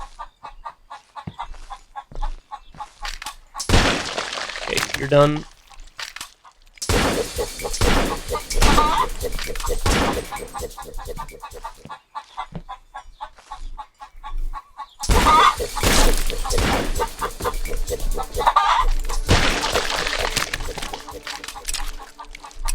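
A chicken clucks in bursts within the Roblox game The Butchery, loud clucks and squawks coming in several separate bouts, with gameplay noise and someone talking briefly between them.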